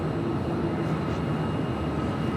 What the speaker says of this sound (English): Aloha Air Cargo Flight 8201 heading to Honolulu, 767-300ER will be our next heavy departure here on 25 right